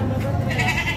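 A goat bleats once, a short wavering cry heard close by at a busy livestock market, with faint murmur in the background.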